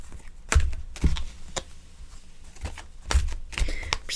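Tarot cards are shuffled close by in soft, quiet riffling bursts with short pauses between them, and no voice is heard.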